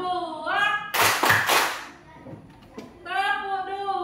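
A classroom of children in an Indonesian school clap in a call-and-response clap game, a sharp cluster of claps bursting out between a teacher's sung or chanted voice, with a few lighter taps trailing after.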